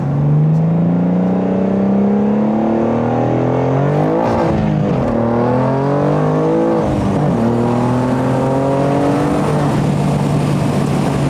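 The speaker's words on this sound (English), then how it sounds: "now the exhaust is loud enough where it overpowers the sound you get from the speakers" A BMW M2 (G87) with a Fi aftermarket exhaust revs loudly several times, the pitch rising and falling in repeated sweeps, with a raspy throaty tone and no talking.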